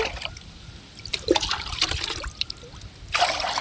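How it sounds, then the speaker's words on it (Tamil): Water poured from a bottle onto dried garden plants in bursts of splashing trickle, a longer pour near the start and another toward the end, close and fairly loud. "மீதி ரெண்டு லிட்டருக்கு இங்கேருந்து தண்ணி ஊற்றிக்குவோம்"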